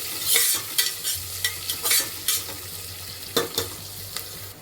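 Green chillies fry in a pan while being stirred for chicken white kuruma; a soft sizzle runs underneath as a spatula makes about ten brisk, irregular scraping strokes, close up with no talking.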